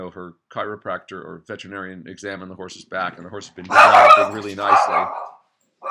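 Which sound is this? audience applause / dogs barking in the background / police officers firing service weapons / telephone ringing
dogs barking in the background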